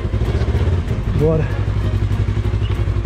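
A sister's motorcycle idles close by beside a pool, its engine chugging in a quick, steady pulsing rhythm, while people talk over it.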